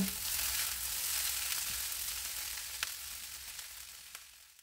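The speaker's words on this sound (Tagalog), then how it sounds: "Pagkaraan ng 7 minuto ay ilagay ang cooked tofu mixture. Haluin ito ng 1 minuto." Tofu mixture being stir-fried with rice in a pan, giving a steady close sizzle and frying hiss with a few light clinks of stirring, slowly fading toward the end, with no talk.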